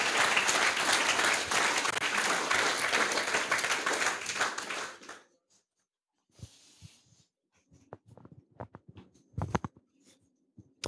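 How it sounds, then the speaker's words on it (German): An audience at a youth hackathon's closing presentation in Cologne gives warm applause, a dense burst of clapping for about five seconds that cuts off abruptly, followed by scattered faint rustles, taps and stray noises in a quieter room. "Einen herzlichen Applaus."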